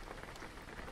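Steady rainfall in a driving video game patters softly and evenly on surfaces, a faint continuous hiss with no voices.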